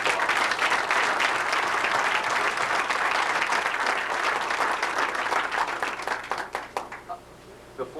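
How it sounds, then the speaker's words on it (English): An audience applauds the boxers seated on the dais at a boxing press conference, a full burst of steady clapping that thins out and trails off into a few last claps. "So I think we should give them a big, large applause."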